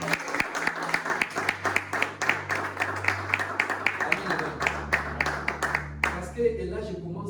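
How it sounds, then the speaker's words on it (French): Church congregation clapping and cheering for the Lord, steady rhythmic applause at close range with a sustained organ or keyboard tone underneath, fading out near the end. "Est-ce que tu peux acclamer maintenant le Seigneur?"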